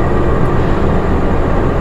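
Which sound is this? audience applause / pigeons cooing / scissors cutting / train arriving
train arriving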